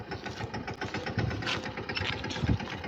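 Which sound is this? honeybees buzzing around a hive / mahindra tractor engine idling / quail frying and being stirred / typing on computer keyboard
mahindra tractor engine idling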